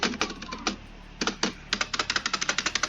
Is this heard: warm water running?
no